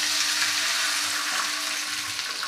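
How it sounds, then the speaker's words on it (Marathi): A bowl of water is poured into sautéed rava (sooji) for vada batter, giving a soft, steady hiss and sizzle for a couple of seconds at moderate distance, without speech. "आणि त्यानंतर आपल्याला यामध्ये घालायचं आहे 1 वाटी पाणी।"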